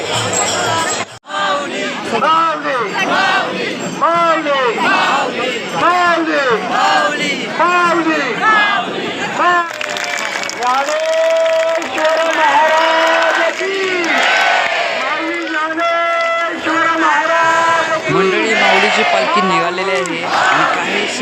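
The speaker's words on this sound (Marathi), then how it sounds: "बघू शकता कशा प्रकारे गर्दी तसेच धावपळ कशी चाललेली आहे" Pilgrims crowd and rush along the Sant Dnyaneshwar Maharaj palkhi procession route from Alandi to Pune, 2024: a dense, loud, close wall of overlapping shouts, chants and chatter that runs continuously, with many voices talking throughout.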